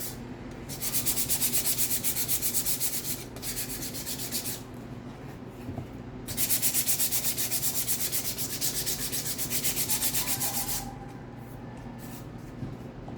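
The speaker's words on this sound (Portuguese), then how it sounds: "De forma leve, não precisa chunchar muito a lixa, é uma coisa rápida" Sandpaper is rubbed lightly by hand over an MDF board in steady back-and-forth strokes, two long runs of rhythmic, close-up hissing rasps separated by brief pauses; no speech.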